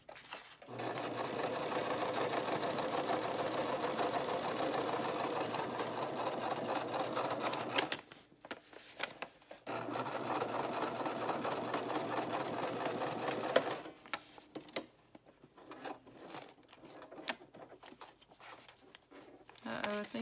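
Sewing machine stitching papers into a vintage-pattern junk journal, running in long steady bursts of rapid mechanical whirring with a brief pause midway, then slowing to short stop-start stitches near the end.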